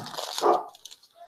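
A single short, close dog bark, with a brief yip and whimper right after.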